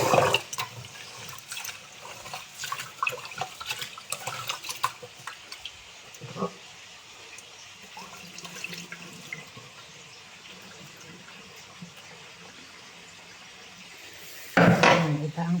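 Tap water runs steadily into a pot while rice is washed, with faint scraping and splashing and a louder burst of water near the end, no talking.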